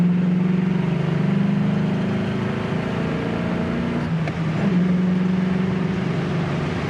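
A 1979 Chevy Camaro Z28 V8 engine drones steadily while driving on the road, then drops in pitch with a brief shift break as it downshifts to third, resuming its low hum.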